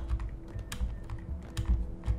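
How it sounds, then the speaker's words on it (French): Typing on a computer keyboard while playing the puzzle game Q.U.B.E, a quick uneven patter of close key presses over a low game hum, without talk. "je suis en train de jouer avec le clavier"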